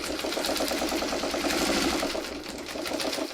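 A sewing machine stitches a quilt block steadily, with a fast, even mechanical chatter that stays close and loud throughout and eases slightly near the end, with no talk.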